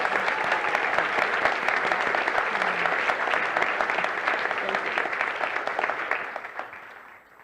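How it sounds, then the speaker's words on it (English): A church congregation applauds steadily for several seconds, dense clapping that holds level and then tapers off near the end. "Let's give our new members a round of applause."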